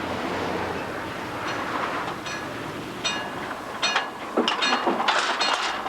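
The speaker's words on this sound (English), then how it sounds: "It says that a train is coming." A train rumbles past a level crossing with a steady roar, and metallic clinks and rattles grow louder toward the end as the cars pass nearby.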